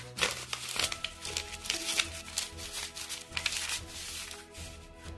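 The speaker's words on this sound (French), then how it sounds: "Je vais découper un morceau de carte routière" Scissors cutting a piece of old paper road map at close range, with crisp snipping and crinkling paper rustle in irregular bursts.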